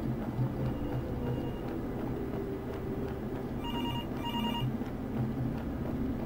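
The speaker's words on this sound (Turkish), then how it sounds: "Dönelim bakalım, telefon çalıyor." A telephone ringing in the horror game Graveyard Shift, two short electronic ring bursts in quick succession midway, moderately faint over a low ambient drone, with no voices.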